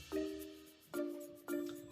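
Three bright notification bell dings in a row, each a clear ringing tone that fades out, the first separated by a longer pause and the last two closer together.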